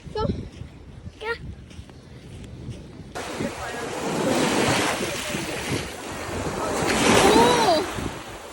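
Surf washes in and wind buffets the microphone on a seaside beach, a steady, loud roar that swells and fades. Excited voices talk over the opening seconds, before the broad wave-and-wind rush takes over.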